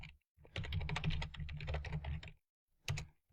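Rapid keystrokes on a computer keyboard clatter close by in a dense burst of about two seconds, followed by a pause and a short final flurry, with no talking.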